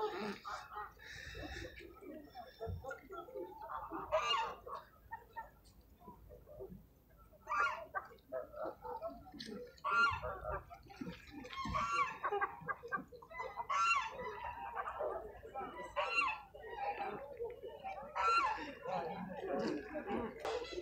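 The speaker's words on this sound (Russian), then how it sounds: "А это, оказывается, куры." At a fair's poultry exhibition in Kropotkin, Russia, chickens cluck and squawk in irregular bursts, some close and some farther off, with other poultry calls mixed in and occasional speech nearby.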